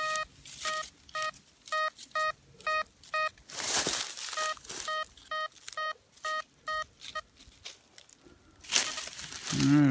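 Metal detector giving a signal tone, a series of short repeated electronic beeps in even bursts, close and clear, with rustling and scraping sounds in between.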